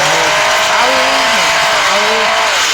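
A racing car in Hill Climb Racing 2 roars with a steady, loud engine drone and rising and falling revs, accompanied by continuous hissing road and tire noise.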